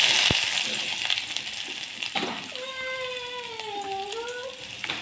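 Fried onion birista drops into a hot pan for Chittagong-style kala bhuna, bringing a sizzle and clatter before a steady frying hiss, with a voice talking throughout.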